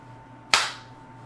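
One sharp, loud gunshot in a comedy sketch, a single crack that cuts off quickly with a short decaying tail and no voices around it.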